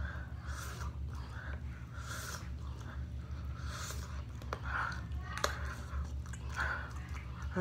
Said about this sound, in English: The chewing.